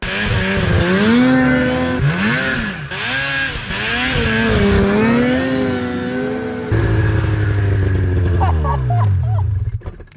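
A vehicle's engine roars and revs hard as it climbs out of a ditch, loud and close with rising and falling pitch through several gear changes before easing off near the end.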